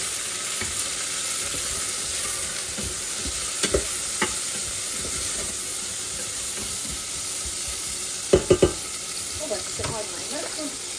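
Beef added to fried onion in a pan crackles with a steady sizzle, with occasional spoon scrapes and a few sharp clinks near the end, and no voices.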